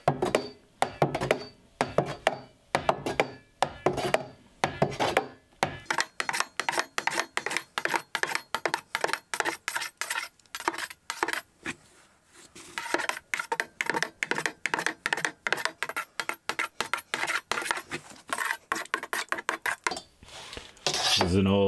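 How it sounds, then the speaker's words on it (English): Old stainless steel ruler slicing through set feta cheese curds in a pot, producing a long series of quiet clinks and taps in irregular rhythm with short pauses, and no talking. "is an old stainless steel ruler that I'm repurposing for cutting cheese curds."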